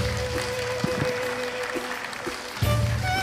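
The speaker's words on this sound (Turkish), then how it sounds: "Alkışlar." Applause at a high school graduation ceremony as students receive diplomas, a steady wash of clapping under background music and hall noise, swelling near the end.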